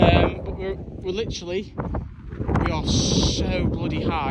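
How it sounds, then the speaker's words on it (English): Strong wind buffets the microphone on a mountain top in Snowdonia National Park, a constant roaring gust that runs under a person talking close by. "it's so windy up here"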